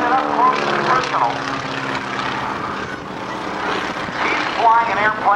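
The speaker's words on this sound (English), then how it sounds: "Flying an airplane known as the Boeing Stearman with a beautiful roundhouse loop." Droning propeller engine of a Boeing Stearman biplane looping and rolling through aerobatics at a Naval Air Station Oceana airshow, steady and fairly loud with a voice over it throughout.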